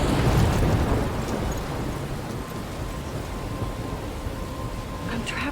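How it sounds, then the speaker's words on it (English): A thunderstorm in Life is Strange sends a deep rumble of thunder over steady heavy rain and wind, loudest at the start and then settling into a dense, constant downpour. "I'm trapped in a storm?"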